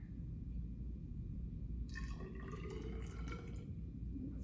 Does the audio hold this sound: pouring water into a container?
yes